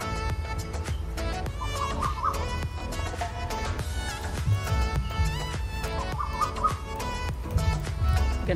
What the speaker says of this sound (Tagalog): Ganda pa ng sound ng ibon, guys.